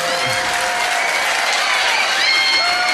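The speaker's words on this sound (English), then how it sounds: "give them a round of applause" Applause from a trivia quiz crowd at The Yard as the winning team takes the gold medal, a steady dense clapping that fills the whole moment with some voices mixed in.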